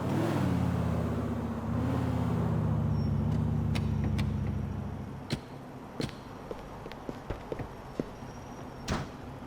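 A truck in Grand Theft Auto 4 runs with a loud, steady engine rumble that fades after a few seconds, leaving scattered sharp clicks and knocks.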